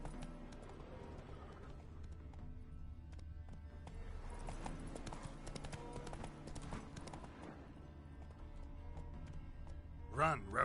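Horse galloping in The Witcher 3: Wild Hunt on the road toward Novigrad, a steady rapid hoof rhythm under game music and ambient sounds, with a brief sharp rising sound near the end.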